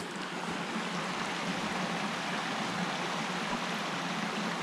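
A rain-swollen stream rushes quickly past logs during the rainy season, a steady, broad, fairly quiet wash of flowing water with no talking.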